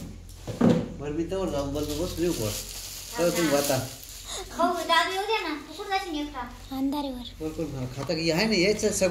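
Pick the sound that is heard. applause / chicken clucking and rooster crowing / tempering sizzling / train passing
tempering sizzling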